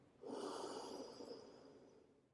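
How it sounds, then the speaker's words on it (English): A single deep, slow breath drawn through the nose during a yoga session, quiet and close, swelling quickly and then fading gradually over about two seconds, with no speech. "Just take 4 deep grounding breaths here."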